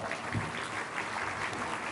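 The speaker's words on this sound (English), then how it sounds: "Give them a big round of applause" A crowd applauds school district officials at a community event, a soft, even wash of clapping that holds steady throughout, heard at a moderate distance.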